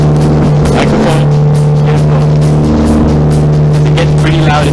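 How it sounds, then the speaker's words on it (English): Loud, steady race car engine roar heard from inside the cockpit on the Sepang circuit, a constant droning drive with revving swells throughout and no pauses. "It gets pretty loud in the car."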